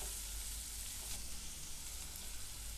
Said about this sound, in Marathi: आता हा कांदा आपण असा परतून घेऊया.